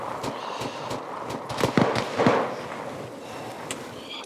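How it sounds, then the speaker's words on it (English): Gunfire in the Arma 3 military game, set among British troops in Afghanistan: a few faint, distant shots popping over steady background ambience, clustered near the middle. "Somebody's firing."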